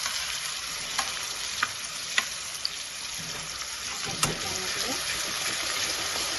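An onion, garlic and tomato masala fries in a pan with a steady sizzle, while a spoon stirs it, scraping and knocking against the pot a few times.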